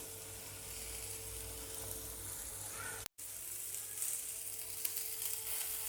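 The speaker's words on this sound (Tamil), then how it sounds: "ஆயில் சேர்த்து வெங்காயம் நல்லா வதங்கட்டும்." Onions frying in a little oil with a piece of ginger and green chillies give a steady, close sizzle that runs throughout, broken only by a very brief dropout partway through, with no voices.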